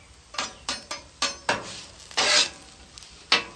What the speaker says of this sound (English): We're just moving the fries around, make sure they're frying even.